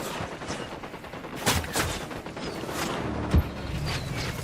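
Sniper gunfire in the Ghost Recon Wildlands video game: a few sharp shots spaced apart, the loudest near the end, over a constant rumbling game background with no speech.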